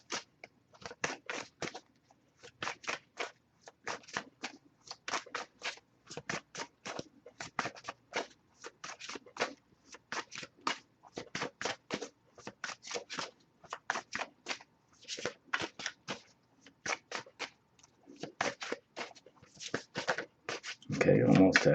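Oracle cards are shuffled by hand in a long series of quick, papery riffling bursts with short gaps between, close and soft, ending in a louder rustle.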